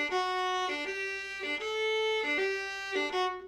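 A viola plays repeated notes in an uneven long-short dotted rhythm, clear and close, with no talking.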